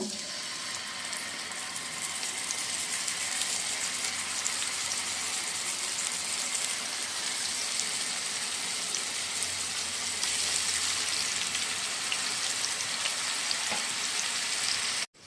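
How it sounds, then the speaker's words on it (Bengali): Pieces of rui fish fry in oil already used to make fried onions, giving a steady, loud, hissing sizzle that runs unbroken throughout and cuts off abruptly at the end. "আর এখন যে তেলে আমি বেরেস্তা বানালাম সেই তেলেই মাছগুলো ভেজে নিব।"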